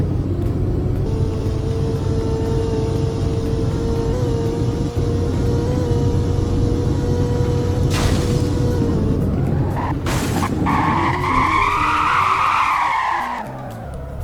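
Car in a Roblox driving game braking hard, a long continuous tire skid over engine rumble, loud and close, with sharp bursts of noise near the end as the squeal sweeps and fades.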